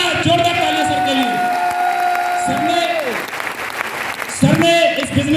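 An audience at a business speech in Lucknow claps loudly for a mentor, dense applause running throughout, close and loud, with a sustained voice heard over it.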